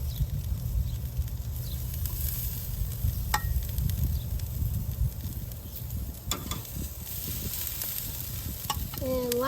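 Thick cauliflower steaks with an oil marinade sizzle steadily on a hot grill, a continuous close crackling hiss with a few sharper pops and no talking.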